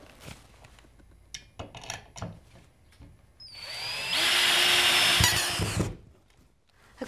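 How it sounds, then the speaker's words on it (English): A power drill drives a screw into a wall stud while hanging cabinets, a loud rising whine lasting about two seconds after some quieter handling clicks, near and alone without talk. "I'm using a screw to attach this to the stud."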